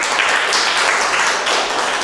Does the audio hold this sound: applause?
yes